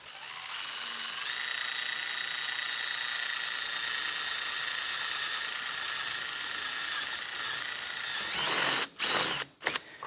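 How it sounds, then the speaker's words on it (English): A power drill whines steadily at high pitch for several seconds while drilling holes in sheet metal, then stutters and cuts in and out in short bursts near the end. "occasionally I'll drill a hole in it"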